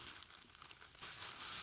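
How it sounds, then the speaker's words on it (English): A plastic grocery store bag crinkles and rustles continuously at close range, growing louder and denser in the second half, with no talking. "This plastic bag from the grocery store."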